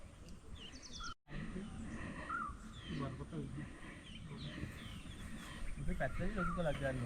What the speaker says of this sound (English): birds hidden among the branches filled the silence with soft songs